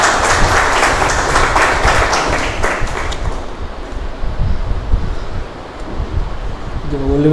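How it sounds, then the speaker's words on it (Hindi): A church congregation applauds for a pastor: broad, sustained clapping for about three seconds that thins out into quieter scattered claps and room murmur, with a brief voice near the end. "फिर से तालियां बजा सकते हैं"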